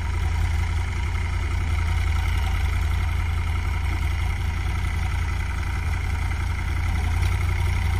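A Massey 245 50-horsepower tractor, 2020 model, hauling a trolley loaded with potato sacks, runs with a steady, loud engine drone that holds even throughout, with no talk over it.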